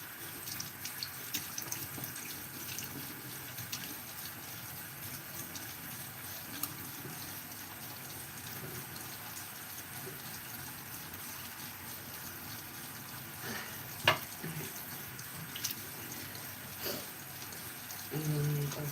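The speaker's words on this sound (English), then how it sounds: "wash the brush out as best I can once, and then I'll rinse all the dirt off" Tap water runs steadily as a makeup brush is rinsed clean of soap and dirt at a sink, a constant soft rush with a couple of faint knocks.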